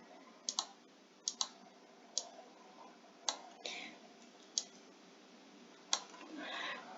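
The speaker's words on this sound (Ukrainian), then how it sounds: "ще один раз клацаю і можу покрутити" Computer mouse buttons click sharply and quietly while editing a greeting card in Inkscape, single clicks and quick doubles spaced irregularly over a faint background hum, with soft rustling near the end.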